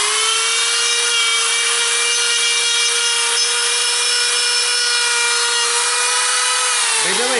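A rotary grinder carving bonsai wood, a loud continuous high whine with a dense rasping grind, pitch dipping slightly at the end as the tool bites.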